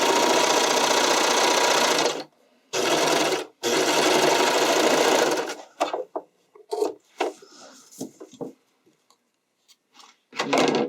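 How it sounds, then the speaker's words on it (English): A loud, close sewing machine stitches through the bikini top lining and outer cup edge in three long runs separated by brief pauses. Clicks and rustling fabric handling follow, and a final short burst of stitching ends it. "you're going to want to make sure you're sewing through both the lining edge and the outer cup edge."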